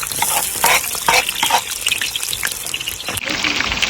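Four sliced onions fry loudly in a large quantity of hot oil, a dense bubbling sizzle with surging hiss that holds throughout, close and prominent.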